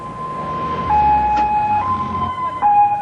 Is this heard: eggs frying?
no